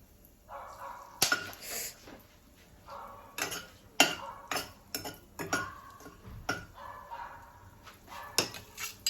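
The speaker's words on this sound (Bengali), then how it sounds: "এখানে কিছু গোটা গরম মশলা যেমন দালচিনি আছে এলাচ আছে লবঙ্গ আছে সেগুলো আমি দিয়ে দিলাম এবারে এটাকে একটু নাড়িয়ে নেবো" Whole cinnamon, cardamom and cloves are stirred in a pan, the spoon scraping and clinking against the metal in a run of sharp knocks and rattles, fairly close and with no talking.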